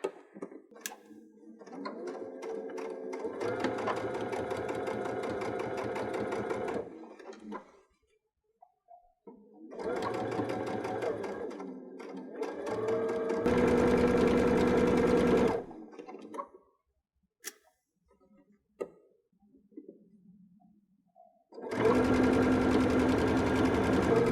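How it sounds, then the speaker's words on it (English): A sewing machine runs in three stretches of rapid, rhythmic regular stitching on a pillowcase, stopping and restarting, with quiet pauses and faint handling between runs. "we are going to come over to our sewing machine here. Use our regular stitch here"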